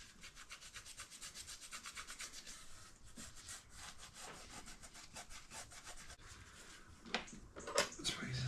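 A fine Scotch-Brite pad scrubs the engine surface of an MG ZT 260 V8 in steady, close rubbing strokes, with a few sharper scrapes near the end and no talking.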